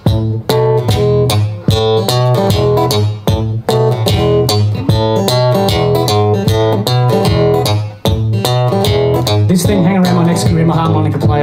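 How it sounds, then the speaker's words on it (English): Solo blues rhythm guitar fingerpicked with the right hand, steady chordal notes plucked in a regular pulse with short breaks, played up close and fairly loud with no voices. "That's going to do the rhythm guitar part just like this."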